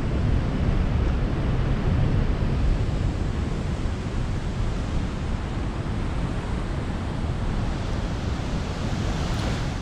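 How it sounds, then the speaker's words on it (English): Water from the Pomme de Terre Dam spillway tunnel gushes out in a loud, steady roar of dense broadband rushing noise that holds unbroken throughout, with no talking. "you can see how this water just comes gushing out of there"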